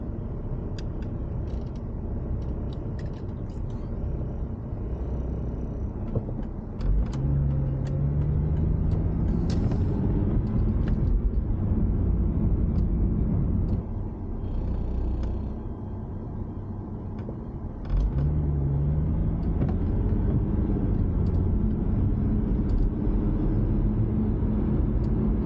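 A Ford Mustang with a rebuilt transmission accelerates on a road test, a steady low engine and road rumble from inside the car swelling as revs build, with a brief dip around a gear change.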